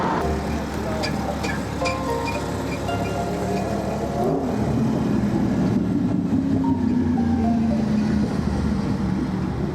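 Tuk-tuk riding along a bike lane through city traffic in Xi'an, China, with a steady engine and road rumble, passing vehicles and a rising motor whine, while people talk throughout.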